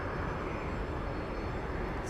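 An airplane at Phoenix Sky Harbor Airport at night gives a steady, dense engine roar that holds constant throughout, with no voices.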